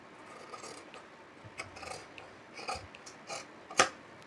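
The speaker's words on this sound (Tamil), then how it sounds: "இப்போது நான் அந்த எல் பேண்டில் எடுத்தது கட் பண்ணி காட்டுறேன் உங்களுக்கு" Scissors snip through blouse fabric while a blouse's front neckline is being cut into shape, giving a few quiet, separate cutting sounds in a soft room, ending in one sharper, louder snip near the close.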